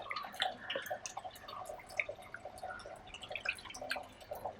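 Fresh water poured over a shark to clean it in a village kitchen, faint irregular splashing and dripping with scattered small trickles, quiet and close, no speech.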